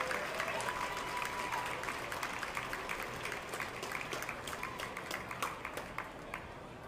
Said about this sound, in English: Let's give one more round of applause to Team 694